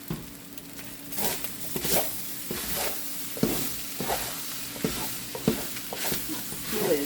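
Stirring in a hot skillet of vegan fried rice, with a steady sizzle running underneath and repeated scraping strokes; close and moderately loud, with no talk.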